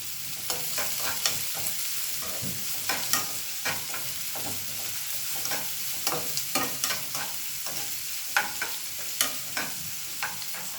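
Onion frying with okra in a pan, a continuous bright sizzle broken by frequent clicks and scrapes of stirring, fairly close and steady throughout with no talking.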